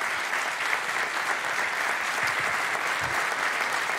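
Steady audience applause fills the room as volunteers come onstage at a closing event of a charity speedrun marathon, a dense, even wash of clapping throughout with no talk.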